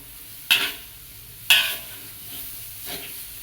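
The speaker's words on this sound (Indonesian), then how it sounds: "Usahakan menggoreng oncom apinya disesuaikan supaya tidak angus." Oncom, fermented soybean cake, fries in a pan with a soft background sizzle, broken by two sharp, close scrapes of stirring and a fainter third stir, with no talk.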